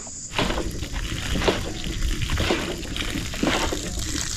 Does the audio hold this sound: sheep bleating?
no